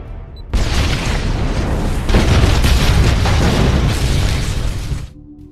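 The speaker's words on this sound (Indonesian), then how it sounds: "ia pun langsung meledakkan tempat itu" A loud, sustained film explosion roars with heavy rumbling bass and crackling debris for several seconds before abruptly dropping to a quieter background.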